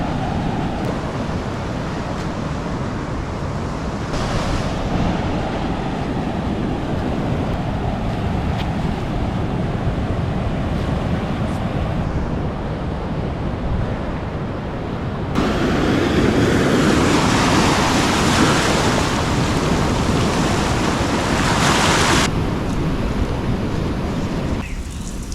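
Waves and wind at Point Cartwright Beach in Caloundra on the Sunshine Coast in the rain: a steady broadband roar of surf and gusting wind across the clip, swelling louder in the middle section, with no voices.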